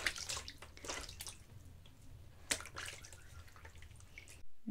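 Warm water splashes and drips as feet are washed, in irregular bursts of pouring and trickling, close by and fairly quiet, with brief pauses between the splashes.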